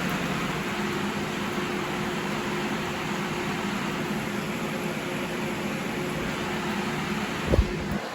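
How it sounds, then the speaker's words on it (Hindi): An evaporative air cooler with wet grass pads runs indoors after being switched on, giving a steady, fairly loud whooshing fan drone with a faint hum and one brief knock near the end. "हो गया कूलर तो ऑन"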